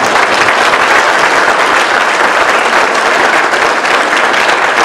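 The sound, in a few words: round of applause for the sheriff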